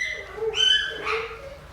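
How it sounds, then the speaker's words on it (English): Dogs vocalise loudly in a short burst, high yelping and whining tones rising and falling over under two seconds, close to the microphone, with no talk. "Dogs are being loud."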